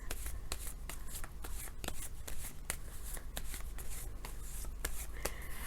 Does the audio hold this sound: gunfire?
no